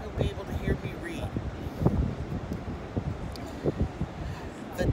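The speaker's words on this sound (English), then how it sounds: "It's pretty windy today" Wind buffets a microphone on a beach, producing uneven low rumbles and gusty thumps that rise and fall continuously throughout, with faint surf noise underneath.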